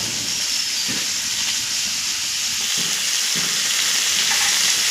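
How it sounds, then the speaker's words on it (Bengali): Vegetables such as pumpkin, potato, radish and eggplant fry in a pan for Malabar spinach cooked with fish head, giving a steady close sizzle and hiss with occasional stirring scrapes, no talk. "দেখুন টোটাল সবজি ফ্রাই করে পুঁই শাক রান্না হচ্ছে"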